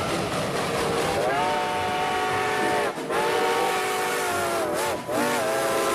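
A toy train runs with a sustained electronic steam-whistle tone that breaks off briefly twice, playing loud and alone without any voices.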